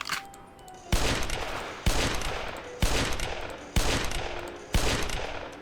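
Five heavy Raging Bull revolver shots in a shooting video game boom at close range, evenly spaced about a second apart, each sharp crack trailing off into a long reverberant decay.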